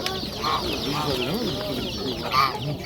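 Chickens cluck and squawk at an outdoor poultry bazaar in Namangan, several birds calling in short overlapping bursts with a lively crowd murmur underneath.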